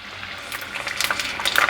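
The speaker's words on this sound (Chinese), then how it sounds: "放入锅内炸" Vegan fritters of cabbage and seaweed sizzle while deep-frying in hot oil, a soft crackle that builds into louder, denser popping bursts toward the end.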